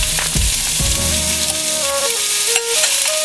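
Meat and onions with garlic sizzle loudly and steadily in a pan, with a few sharp stirring knocks near the start and a faint tonal hum underneath.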